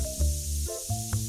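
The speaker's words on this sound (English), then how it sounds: "Spray. Spray. Spray." Short hissing bursts of a spray can in TCG Card Shop Simulator as a shopper gets cleaned, three quick pumps with steady game music underneath.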